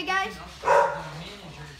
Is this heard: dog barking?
yes